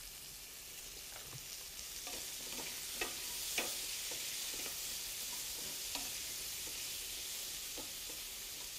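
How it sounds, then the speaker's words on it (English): Pancetta and onion sizzle and brown in a pan for carbonara sauce, a continuous close crackling fry with occasional sharp pops and light clicks from stirring, no talk. "We're getting our pancetta to brown up on the edges slightly."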